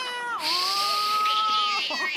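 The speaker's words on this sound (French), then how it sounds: "Un chat" A cat gives a single drawn-out meow lasting under two seconds, close and clear, with a falling start and a steady wavering tone.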